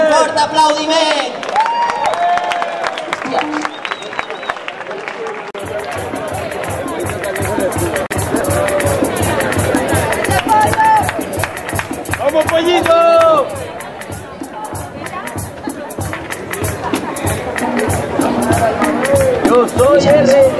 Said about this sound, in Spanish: Un fort aplaudiment!